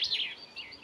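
A blackbird sings from a rooftop outdoors, a short bright burst of warbling, falling phrases, fairly close and clear against a quiet background.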